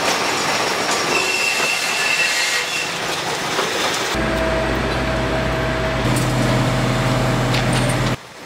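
A track renewal train works a railway line after a freight train accident, giving a loud, continuous rumble of rolling wagons with squealing wheels and rhythmic clatter, close by and with no voices.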